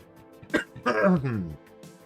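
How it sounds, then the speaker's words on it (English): A person gives a single cough followed by a rough throat-clearing rasp, heard up close and loud, with a brief quieter breath afterward. "I just coughed in your guys' ear."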